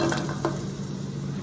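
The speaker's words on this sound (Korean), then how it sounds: "재료들을 한번 볶아줄 거예요." Vegetable stew ingredients stir-fry in extra virgin olive oil in a wide pot, a steady close sizzle with a couple of faint utensil scrapes.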